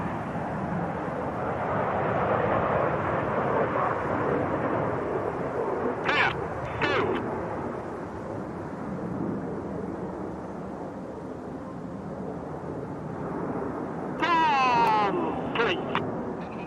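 Red Arrows jets flying the rollbacks manoeuvre at the Goodwood air display make a broad, steady roar of engine noise overhead that swells slightly, with a commentator talking over it.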